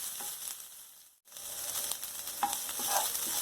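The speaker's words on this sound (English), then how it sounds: "I want the crayfish to release its aroma. I like the way it smells when it's frying or when it's fried." A pepper and crayfish mix fries in a pan for an eggplant sauce, a steady close sizzle with scraping stirs, briefly cut off once before the frying hiss resumes, with no talking.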